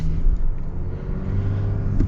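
Chevy Duramax pickup engine accelerating, a steady deep low rumble that holds close and loud throughout, with a slight rise near the end and no talk over it.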